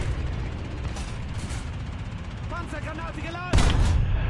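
Tank cannon fire and gunfire in the War Thunder video game, with dense rumbling combat noise throughout and a sharp, loud blast near the end, under a voice talking.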